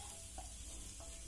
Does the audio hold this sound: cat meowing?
no